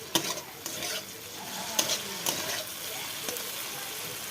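Okra and potato stir-fried in a pan, a soft continuous sizzle broken by a few sharp scrapes and taps of the spatula, close and fairly quiet.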